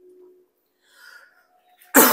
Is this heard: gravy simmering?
no